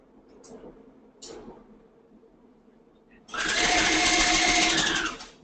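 A sewing machine stitches a bar tack across the base of a ballet bodice: one loud, steady burst of rapid whirring lasting under two seconds, after faint handling sounds.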